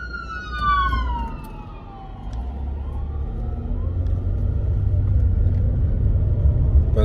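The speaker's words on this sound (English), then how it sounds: "I hear an ambulance coming right behind me, so I better pull over" An ambulance siren wails with a falling, sweeping tone as it approaches and goes by on the road, mixed with a steady low rumble of traffic that gradually grows louder.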